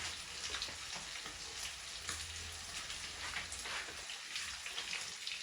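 Blended tomatoes sizzle and fry in a hot pan for a Kenyan matoke beef stew, a steady crackling hiss with soft popping that continues close and even throughout.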